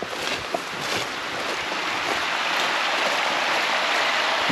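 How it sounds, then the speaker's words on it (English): Mountain creek water flowing through a forest strewn with fallen trees in early spring, a steady broadband rush heard close and continuous without a break, with no talk over it. "This is the creek we passed by earlier, further down."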